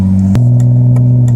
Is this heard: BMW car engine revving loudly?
yes